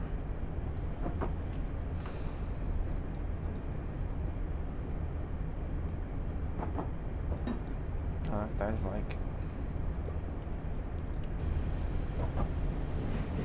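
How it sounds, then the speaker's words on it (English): An Isle of Wight Island Line train in Train Simulator gives off a steady, moderate rolling rumble and rail drone throughout, with someone speaking briefly over it. "We might pass a second train here,"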